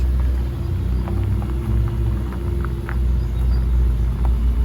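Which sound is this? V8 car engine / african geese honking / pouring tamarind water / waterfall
V8 car engine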